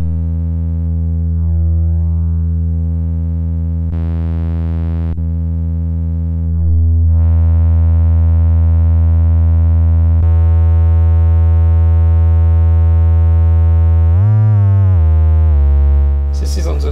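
A Serge modular synthesizer with an extended ADSR waveshaper holds a steady, loud electronic tone, its timbre shifting in a few abrupt steps and a smooth swell as the wave shape changes, with no voice.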